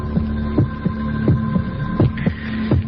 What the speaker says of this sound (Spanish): Latidos de corazón